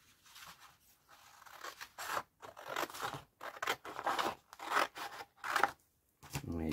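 Scissors cut out a square drawn on paper in a run of crisp, close snips and crunches separated by short pauses, with a brief rustle at the end.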